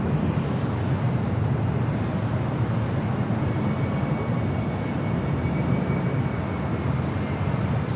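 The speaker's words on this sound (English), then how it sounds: "Here we have United Airlines 1855 taking off to Newark on the 787-10 Dreamliner" A United Airlines Boeing 787-10 Dreamliner takes off for Newark, its loud, continuous broadband engine roar filling the air from start to finish with no talk.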